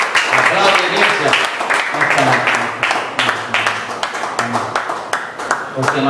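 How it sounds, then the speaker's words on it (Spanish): A church congregation at a baptism service claps together, with brisk, rhythmic applause near and loud, and voices speaking over the clapping. "Aplauda, iglesia, aplauda."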